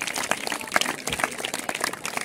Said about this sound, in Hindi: हम सब ताली बजा के अरुणा गंधा जी का स्वागत करें